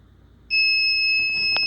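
A heat press timer for a 20 oz tumbler starts a sustained shrill electronic beep partway through, loud and close, holding steadily to the end over faint background noise.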